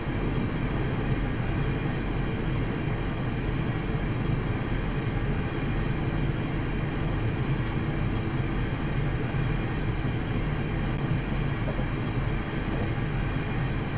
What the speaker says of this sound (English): Starting to decrease now the speed of the train as we approach the station.